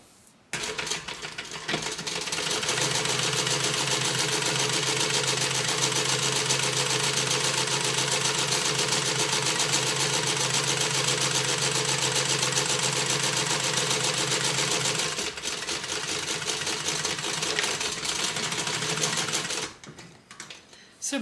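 A sewing machine stitches a tote bag seam in one long run of about fifteen seconds, a steady close whirring hum that slows and changes tone before stopping, with quieter moments at the start and end.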